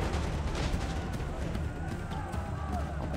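Gunfire and explosive blasts in the Assassin's Creed III video game, a dense, loud, rumbling barrage of shots through a battle scene with a voice shouting commands over it.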